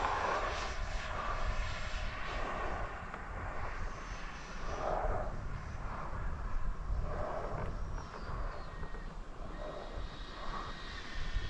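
Freewing Vulcan RC jet at full throttle on takeoff, a steady rushing engine roar heard outdoors at moderate distance, continuous and unbroken with no speech.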